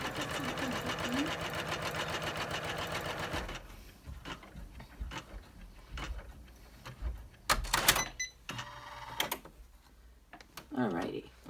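An embroidery machine stitches an in-the-hoop credit card wallet with a rapid, steady mechanical chatter for a few seconds, then stops, giving way to nearby voices and clattering handling noises.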